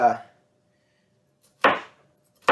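Knife chopping vegetables on a board for vegetarian fajitas, a few isolated sharp cuts spaced over a couple of seconds, close and clear with silence between, after a brief bit of talk at the start.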